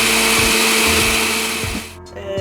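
An electric mixer beating dissolved gelatin into strawberry puree, a loud, steady whirring motor drone with rhythmic bumps from the beaters. It slows and cuts off near the end, then briefly starts again, with no voices.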